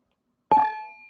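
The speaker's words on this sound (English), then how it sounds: "One more bell, for good sakes." A single small prayer bell is struck once after a moment of silence, giving a bright, sharp attack that rings on with a clear, slowly decaying tone.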